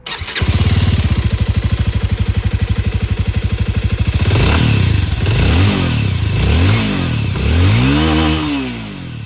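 A Bajaj Avenger 220 Street motorcycle with a matte black exhaust starts and settles into a steady thumping idle, then revs several times in rising and falling blips, loud and close with no talking.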